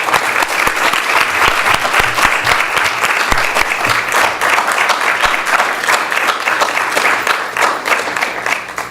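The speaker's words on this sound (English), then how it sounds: "Let's all clap for President Wynn" Students at an undergraduate student government general assembly applaud their president: a sustained, loud, even wash of many hands clapping that holds steady for several seconds and fades slightly toward the end.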